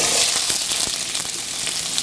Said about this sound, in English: You can hear it splattering already,